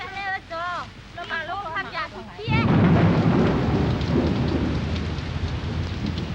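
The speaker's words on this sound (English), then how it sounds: "after 6 hours of torrential rain, the storm clouds are finally passing." A thunderstorm with torrential rain in Bangkok roars in heavily and close, a dense continuous downpour with rumbling thunder, preceded by a few seconds of chirping birdsong.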